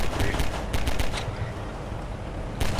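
Gunfire in Half-Life 2, rapid automatic bursts of sharp cracks close by, dense in the first second, pausing briefly, then resuming with another burst near the end over continuous background noise.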